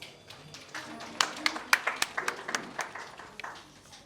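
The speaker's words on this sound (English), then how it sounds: "Please welcome with a warm round of applause." Scattered handclaps from an audience at a school orientation day welcome the vice principal to the stage, building from a few light claps into a thin, uneven patter over soft background murmur.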